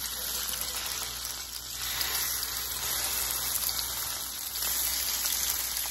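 Salmon frying in hot olive oil in a pan, a loud, dense, continuous crackling sizzle heard up close, like heavy rain on a surface.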